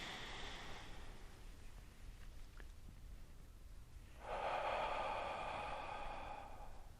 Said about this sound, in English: inhale and let your hands float up. Expand everything outwards. Exhale. Inhale, expand.